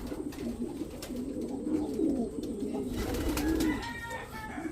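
Racing pigeons coo repeatedly as they return into the loft during club training, with soft throaty calls overlapping close by over a steady low background murmur.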